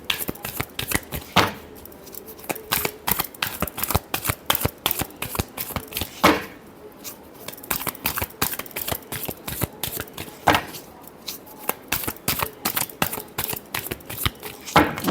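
A deck of tarot cards shuffled by hand over and over, a fast crisp riffling flutter in quick bursts with short pauses between, close and fairly loud.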